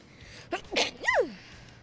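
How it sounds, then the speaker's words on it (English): A single close sneeze with a sharp intake and explosive burst, trailing into a short vocal tail, alone without talk. "I need to sneeze."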